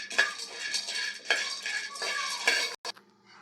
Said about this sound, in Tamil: இப்போ கடாய் வச்சுட்டு நம்ம வேர்க்கடலையே வறுத்து எடுத்துக்கலாம்.